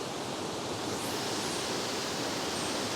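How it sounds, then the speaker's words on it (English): A waterfall roars in the background as a dense, even rush of noise that fills the whole stretch without any break. "I don't care about the waterfall in the background."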